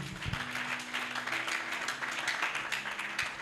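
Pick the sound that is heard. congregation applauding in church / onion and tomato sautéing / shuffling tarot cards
congregation applauding in church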